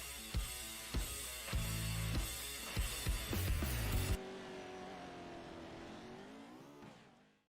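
Off-road race cars in the iRacing sim during a five-minute warm-up at Wild Horse, engines revving and shifting up in loud, rhythmic pulses before the roar drops to a steadier, fading drone.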